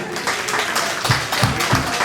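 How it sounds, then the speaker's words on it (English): A group of students claps together, a short burst of steady applause in a hall with some rhythmic, emphatic beats. "the students here can give them a round of applause"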